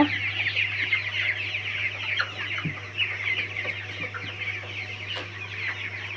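Several Tiger chickens on a farm cluck steadily at a moderate distance, with occasional sharper calls over a constant low hum.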